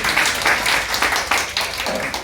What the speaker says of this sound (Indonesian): Tepuk tangan buat Anda.